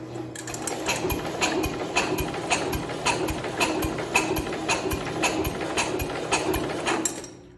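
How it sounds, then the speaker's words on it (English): A 1970 International Cub Cadet 127 garden tractor engine, unused for over ten years, is cranked over by its starter without spark but with compression. It makes a steady, rhythmic, whirring chug for about seven seconds, then stops. "It's got compression, and the engine sounds fine, spinning it over like that."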